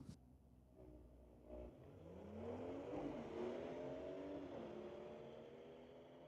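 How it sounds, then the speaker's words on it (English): Volkswagen and a 2017 BMW M2 drag racing at a raceway strip, engines building from a faint distant hum into a loud rising rush as the cars accelerate past, then fading slightly. "Brings up Jeremy Loy in the Volkswagen, racing against E-Crash in the 2017 BMW M2 40i"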